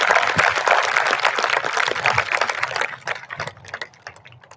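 Audience applause at a school's Class of 2021 awards night, loud dense clapping from a crowd that thins out and fades into scattered individual claps toward the end.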